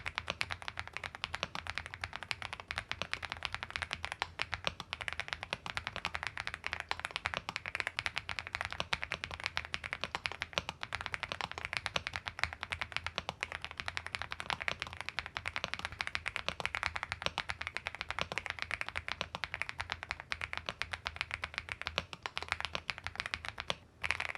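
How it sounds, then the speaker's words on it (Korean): Fast, continuous clacking of linear Richberry switches on an FL-ESPORTS X80 tenkeyless mechanical keyboard, dense and even, close up with no voices, going on steadily throughout. "도각도각거리면서 걸림이 없는 리니어 타입의 리치베리 스위치를 타건해봤습니다."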